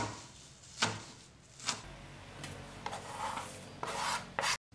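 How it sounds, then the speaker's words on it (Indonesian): Kipahit leaves being cut into smaller pieces by hand, heard as a few separate dry rasping strokes with soft rubbing between them, close and quiet, with no voices. "Kemudian potong-potong lebih kecil agar mudah dihaluskan."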